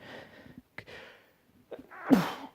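A single sharp sneeze, preceded by a couple of quick, quiet breaths and sniffs, close and abrupt.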